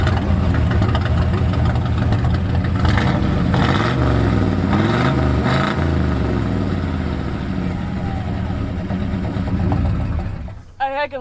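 Old Ford dump truck engine idling with a rough, knocking mid-range rumble, rising in a few brief revs before cutting out near the end, with people talking nearby.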